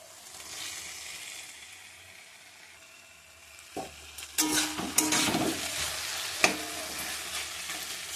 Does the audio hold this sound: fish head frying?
yes